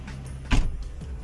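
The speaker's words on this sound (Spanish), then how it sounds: "Aquí no cabe nada, dejen cerrar la puerta." A car door shuts once inside a Ford Escape, a single close, solid thump heard from within the cabin, followed by a quieter rattle.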